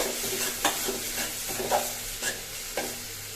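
Red amaranth greens being stir-fried in a pan, with a steady soft sizzle and a few distinct scraping strokes of the spatula at regular intervals; no voices.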